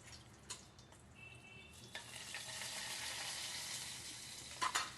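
Whole spices sizzling in hot oil in a pan for Kolhapuri chicken curry, a steady close frying hiss that swells midway, with a few scrapes and clinks of stirring and no voices.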